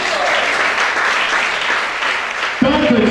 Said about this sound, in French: Acclame, continue à acclamer.